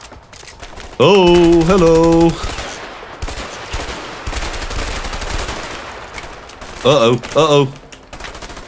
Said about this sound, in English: My SMG is not... the punchiest.